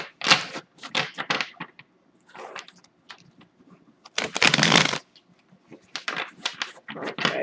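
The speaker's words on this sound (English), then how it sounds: "I did shuffle, but I just want to do it on camera" Tarot oracle cards being shuffled by hand in bursts of riffling, crisp flutters with short pauses between, one loud longer riffle in the middle, close and alone without speech.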